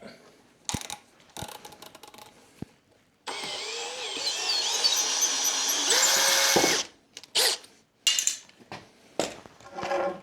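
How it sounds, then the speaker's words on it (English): A power drill drives screws into a boat hull plate in short whirring bursts, then a long, loud sustained run that strains and rises in pitch before a few more brief spurts and clicks, up close. "That's a little drill abuse."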